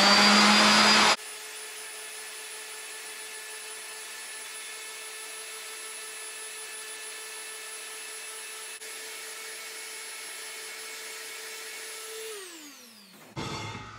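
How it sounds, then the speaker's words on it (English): Electric sander working on a tumbler, a steady close mechanical whine and buzz that holds evenly before winding down, with a brief louder burst at the start and a clatter at the end. "But all you got to do is take your sander."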